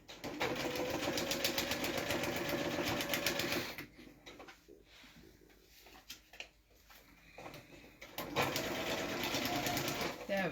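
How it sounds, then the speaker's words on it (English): Electric sewing machine running in two long continuous stitching bursts, with a pause in the middle where voices talk quietly, loud and close throughout the stitching. "Do a little back stitch right there."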